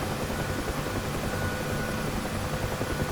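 Helicopter in the Black Shark flight simulator game, a dense, steady rotor and turbine roar flying around a harbour, loud and unbroken throughout.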